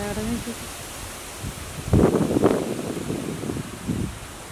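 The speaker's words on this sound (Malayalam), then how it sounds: "നല്ല കാറ്റ് വീശിട്ടുണ്ട് കേട്ടോ. സൗണ്ട് കേൾക്കണില്ലേ നന്നായിട്ട്? ഭയങ്കര കാറ്റാണ്." Strong wind blows outdoors ahead of rain, a steady broadband rush with rustling that swells into louder gusts midway and stays close and continuous.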